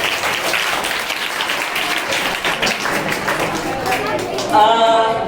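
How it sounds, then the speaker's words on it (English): Applause from an audience at a school academic event, continuous clapping throughout, with a voice speaking briefly near the end. "Clap for Devasis."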